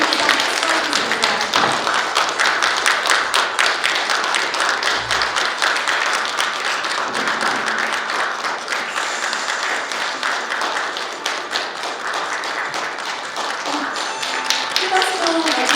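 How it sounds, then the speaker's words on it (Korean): An audience at a university student council inauguration ceremony gives sustained, dense applause that fills the hall evenly for the whole stretch and thins only slightly toward the end. "모두 자리에서 일어나 큰 박수로 맞아주시기 바랍니다."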